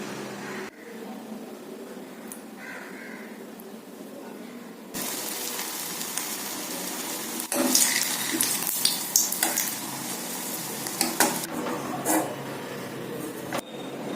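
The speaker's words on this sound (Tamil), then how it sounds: "ஒவ்வொரு உருண்டையும் வடை மாதிரி தட்டி போட்டு எடுக்கலாம்" Bitter gourd vada balls being fried in hot oil, with a quiet sizzle at first that swells into loud, crackling frying, plus occasional clinks of a utensil against the pan.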